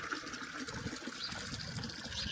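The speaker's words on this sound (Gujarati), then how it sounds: "તપેલું ભરીને પાણી મૂકી દેવી તો અહીંયા ચાલુ કરી દઈએ નળ" Running tap water splashes and gushes steadily into a metal cooking pot, a short continuous pour at moderate level.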